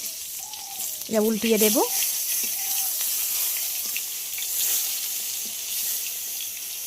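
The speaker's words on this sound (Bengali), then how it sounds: "ওই তেলের মধ্যে বাকি বেগুনগুলোও ভেজে নেব" Eggplant slices frying in shallow hot mustard oil in a pan, with a steady soft sizzle and crackle running throughout and someone speaking briefly near the start.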